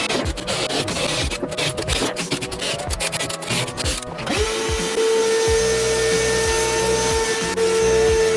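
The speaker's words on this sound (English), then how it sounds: "I got all the holes drilled" A power drill bores holes for a DIY platform rack, first in rough stuttering bursts with scraping, then in a steadier high whir that runs close and loud.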